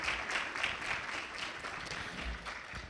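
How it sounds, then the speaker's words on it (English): Audience at an Islamic center event clapping for three speakers, a soft, steady patter of applause heard from a distance throughout. "Please let's give them a huge round of applause."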